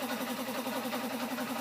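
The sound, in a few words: air compressor running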